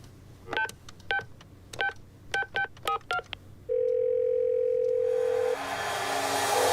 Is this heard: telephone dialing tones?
yes